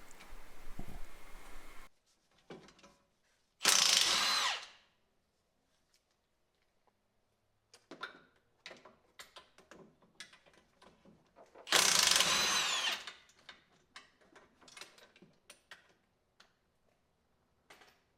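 An impact gun removes front suspension bolts on a 1990s Mercedes W124, two loud rattling bursts of about a second each, with clinks and tool handling between them in a quiet garage.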